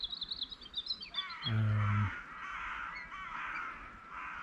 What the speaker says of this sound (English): The amount of these birds in this area is unbelievable.